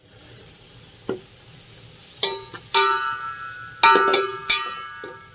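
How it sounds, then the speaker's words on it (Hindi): Ginger garlic paste frying in a pan for biryani, with a soft sizzle under a series of sharp metallic clinks and scrapes from a spoon against the pan. "अदरक लहसुन का पेस्ट मैंने शामिल कर दिया जी, इसको बस हमने 1 आधा मिनट ही भूनना होता है।"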